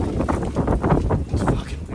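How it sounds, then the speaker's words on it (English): Strong wind buffeting an outdoor microphone, gusty low rumbles rising and falling in uneven surges for a couple of seconds with no voices heard. "It's fucking windy, bro."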